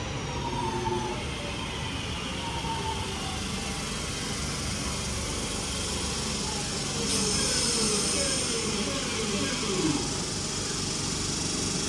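Northern class 323 electric unit 323219 waits at Poynton station with a steady low hum and drone. A higher whine swells partway through, and brief faint tones sound near the start.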